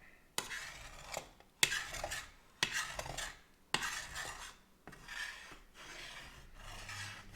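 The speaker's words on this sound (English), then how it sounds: "Let's stir it around." A utensil scrapes egg whites around a pan in a series of distinct rasping strokes, roughly six or seven drags spaced about a second apart, close and fairly quiet with no talking.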